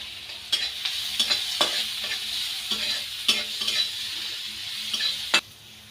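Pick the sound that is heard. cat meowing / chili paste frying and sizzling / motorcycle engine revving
chili paste frying and sizzling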